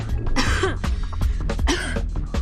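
A woman with tuberculosis coughs harshly and repeatedly, close and loud, in two clustered fits of wet, strained coughs with throat clearing between them.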